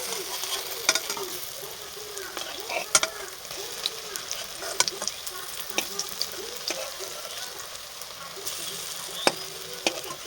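Radish fritters frying in a pan, a soft steady sizzle with scattered clicks and scrapes of turning, fairly quiet and close, without talk.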